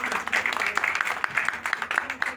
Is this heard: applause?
yes